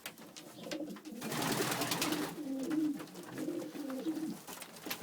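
Texan pigeons cooing in a loft, a close, continuous run of low throaty coos layered over one another, no talking.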